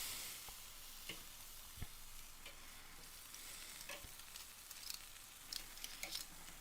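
Sausage and peppers frying on a hot grill, a quiet steady sizzle with scattered crackles and pops, no talking.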